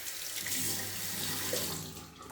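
Tap water runs steadily from a faucet to wet sandpaper while polishing a brass watch dial, a continuous close hiss and splash filling the whole stretch without pause.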